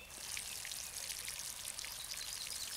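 Plants being watered in Garden Simulator, a steady hissing spray and patter of water falling on soil and leaves, continuous and even throughout.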